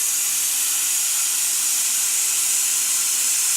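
Steam hisses from the pressure release valve of an Instant Pot pressure cooker cooking chicken taco filling, a loud continuous bright hiss that holds steady without a break.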